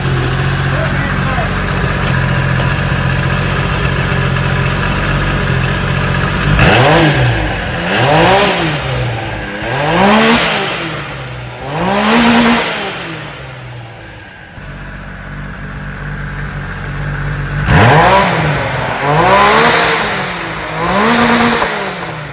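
A Polaris RZR Nytro side-by-side engine revs in repeated swelling bursts, each rising and falling in pitch, over a steady idle rumble with people talking nearby.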